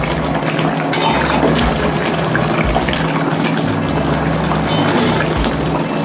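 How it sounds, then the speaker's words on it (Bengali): Hot water poured into a pot of spiced chicken for chicken chaap: a continuous loud rushing, splashing wash of liquid, steady and close, without pauses. "আমি অল্প করেই গরম জল দিলাম যাতে চিকেনের ভিতরে মশলাগুলো ঢুকে চিকেনটা তাড়াতাড়ি"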